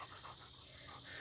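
A dog pants quietly close by in a quiet room, a soft, rapid, rhythmic huffing of breaths over a faint steady hiss, with no talking.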